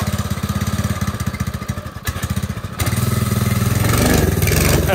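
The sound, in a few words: F150 truck engine struggling to idle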